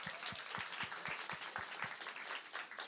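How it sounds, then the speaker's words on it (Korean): A church youth winter retreat audience applauds the teachers: dense, continuous clapping from a large crowd, fairly distant and even throughout the whole stretch. "우리 선생님들께 좀 박수 한번 좀 드려요"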